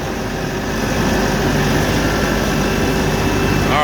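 An LS XR4145 compact tractor's engine drones steadily in second gear while driving, a close, continuous low rumble with no talk.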